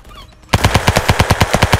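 Rapid automatic gunfire in the video game Ancient Warfare 3 bursts in after a quiet moment, a loud run of about a dozen evenly spaced shots.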